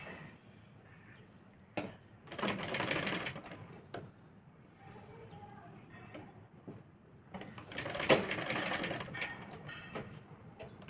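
A sewing machine stitches fabric strips in two short bursts of fast, rattling whirr, separated by quiet handling noises, close by and at moderate volume.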